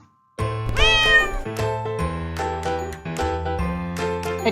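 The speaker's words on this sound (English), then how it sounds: "A cat meows." A domestic cat gives a single drawn-out meow, loud and close, over light tinkling background music.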